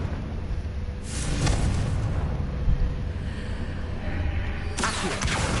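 Explosive blast from the Confringo spell in a Harry Potter video game, a loud booming burst with a long rumbling tail, followed by a second sharp burst near the end.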